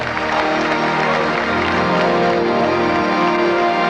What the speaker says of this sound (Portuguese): Give the Lord a great hand of praise.